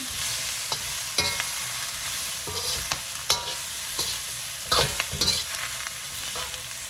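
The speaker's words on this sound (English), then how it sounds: "Now I will turn the flame up a little bit, and I will stir fry it for about 1 minute" Vegetables sizzle steadily in a hot pan over a raised flame while a utensil scrapes and clatters against it in irregular stirring strokes.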